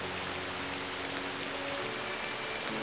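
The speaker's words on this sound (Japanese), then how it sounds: "雨が降ってきた。" Rain in the Uta no Prince-sama game, starting as scattered drops and building into a steady, even hiss of falling water that runs through without a break.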